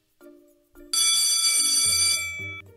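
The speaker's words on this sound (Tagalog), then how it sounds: "biglang tumunog ang kampana" A bright school bell rings loudly for about two seconds, sharp and metallic, between short electronic tones before and after.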